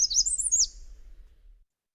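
An American redstart sings a brief, high, sweet warbler phrase of quick notes ending on a high pitch. It is clear but fairly faint, followed by quiet background rumble.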